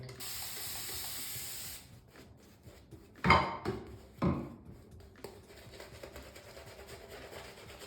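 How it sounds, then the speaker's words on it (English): Water runs from a tap in a short hissing stream, then stops, followed by a couple of sharp knocks and faint background noise. "So I'm going to add a bit more water."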